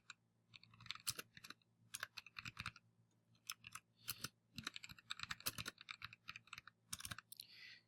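Keys clatter on a computer keyboard as a page title is typed, quick irregular bursts of close, crisp clicks with short pauses between words and a steady low hum underneath.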